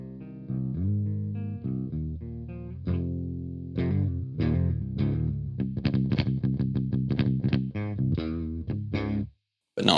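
Electric guitar played through a Jackson with a clean tone: a run of sustained chords and picked notes, then quicker strummed and plucked passages, loud and close with no voices, ending in a short pause and a final note.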